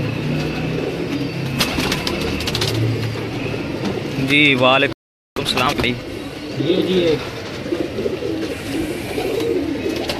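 Pigeons coo on a Lahore rooftop, soft repeated calls near and far under a man's greeting and chat, with a faint engine hum and a brief gap of silence midway.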